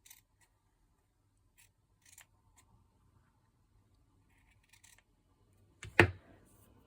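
Scissors snip embroidery fabric near a dark blue stitched area, with a few faint small clicks and rustles followed by one sharp, close cut near the end.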